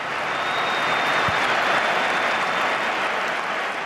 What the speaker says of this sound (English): So good, even Real fans applauded.